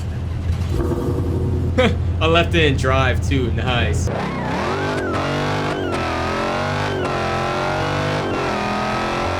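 A Hellcat-engined Dodge Charger in the BeamNG Drive video game starts in a garage with a deep rumbling idle, then revs repeatedly and pulls away in rising gear sweeps, loud and close, as someone talks over it.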